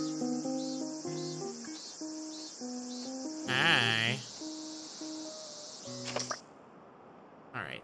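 Brown cicadas in the video game Animal Crossing: New Leaf, a constant high buzzing drone under tinkling game music and a brief burst of chattering game voice.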